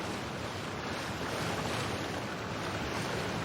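Waterfall in the video game Genshin Impact gives off a steady, unbroken roar of rushing water, broad and constant like surf or wind, with no voices over it.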